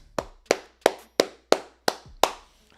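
Hands clap seven times in an even, brisk rhythm, each sharp close slap ringing briefly before the next, with no talk.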